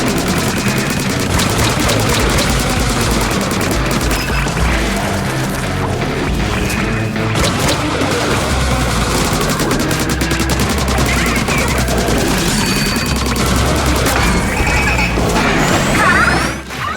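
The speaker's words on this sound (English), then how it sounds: "finished it off with the Mega Shark attack" Mega Shark special attack finishing off a boss in Splatoon Raiders, a loud, dense barrage of crashing, smashing impacts and rapid blasts that runs almost without pause.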